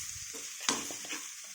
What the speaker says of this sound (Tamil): உங்களுக்கு தேவையான அளவு உப்பு, நல்லா மிக்ஸ் பண்ணிக்கணும்.